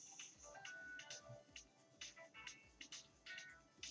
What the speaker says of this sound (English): Fucking mobile phone, I need to cut all this sound